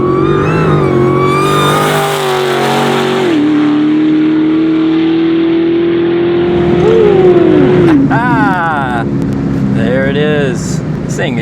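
A 1000 HP SRT Super Stock car on drag radials roars loudly from inside the cabin as it launches, the engine note climbing through gears with shifts and some pedaling, ending in rising and falling revs.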